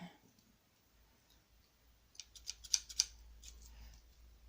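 Scissors snip away excess fabric while a fabric bow is made, a few crisp close snips and clicks in a quiet room after a soft lead-in of handling noise.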